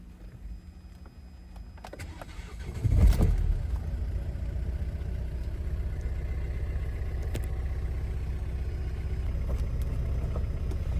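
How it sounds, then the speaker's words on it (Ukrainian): A 2017 Renault Megane 1.5 diesel engine cranks with a short burst and catches around three seconds in, then settles into a steady, even low rumble that continues to the end. "Двигун працює ніби рівно"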